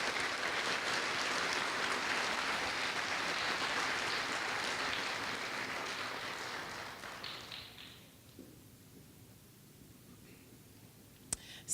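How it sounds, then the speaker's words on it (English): Applause at a school district board meeting for first grade students, steady clapping from the room that tapers off and fades out near the end, leaving near silence and a single sharp click. "A round of applause for first grade."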